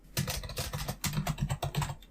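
Quick, light keystrokes on a computer keyboard while entering a Wi-Fi password, a rapid run of close, quiet clicks in two short bursts with a brief pause between them.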